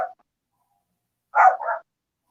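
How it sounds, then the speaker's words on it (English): A small dog, likened to a chihuahua, barks outside: one short yip, then after a silence a quick double bark, moderately near and clear against a quiet background. "My dog outside."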